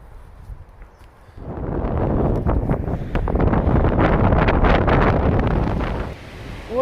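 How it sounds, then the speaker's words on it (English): Wind gusting outdoors near sycamore woods and the sea, rising after a quiet start into a loud, roaring buffet against the microphone that holds for several seconds before easing off. "Well, Scruff, the wind's picking up again"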